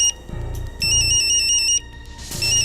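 A phone ringtone plays in loud electronic bursts, a repeating melodic trill with pulsing gaps between rings, close and alone without talk.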